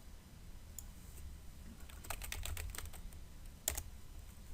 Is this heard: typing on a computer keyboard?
yes